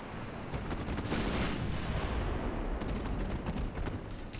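Naval main-gun salvo from warships in the Ultimate Admiral Dreadnoughts game, 7.5-inch guns firing: a dense, continuous rumble of overlapping booms with sharp cracks layered on top, loud and sustained throughout.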